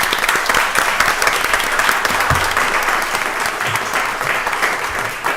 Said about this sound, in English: So if we could give a round of applause to Dr.